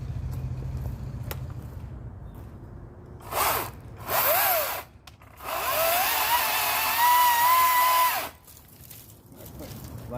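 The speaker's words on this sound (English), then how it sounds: "let's see if I can redeem my Atlas chainsaw's good name" An Atlas chainsaw fitted with a new chain roars through wood in short bursts, then holds one long whining cut of several seconds before dropping back to a low idle, with voices nearby.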